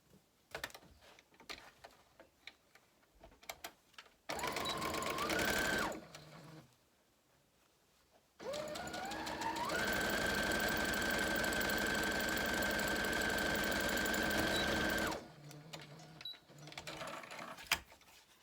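Sewing machine stitching a fabric seal toy closed, running in two sustained bursts with a rising whir, separated by quiet pauses and faint handling sounds before and after.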